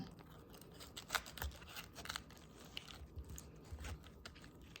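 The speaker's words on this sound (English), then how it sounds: "We're just going to cut the core out." A knife cuts the core out of a raw cauliflower, giving quiet crisp crunches and snaps of the dense stalk in an irregular series of close, faint cuts.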